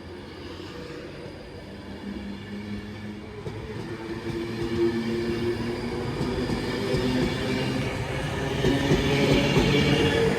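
A British passenger train rolls along with a low, steady rumble and hum from inside the carriage, the noise slowly rising as it gathers speed.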